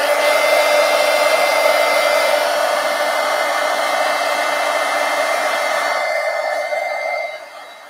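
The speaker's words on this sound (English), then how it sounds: "Heat gun." A heat gun blows steadily while drying paint on an altered-book craft project, a loud continuous airy roar that fades slightly near the end.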